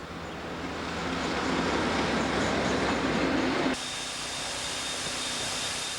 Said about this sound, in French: l'omniprésent train de contrôle des caténaires composé d'une seule voiture.